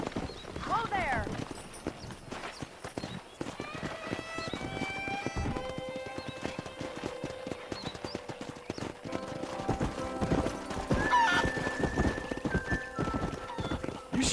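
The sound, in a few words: horses trotting and neighing in a video game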